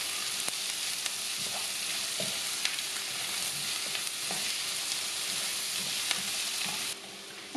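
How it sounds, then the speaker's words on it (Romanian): Vegetables sauté in a frying pan for a Mediterranean tomato cream soup, giving a steady close sizzle and frying hiss with occasional scrape and clink of stirring, no voices. "și mai lăsăm 2 minute amestecând din când în când."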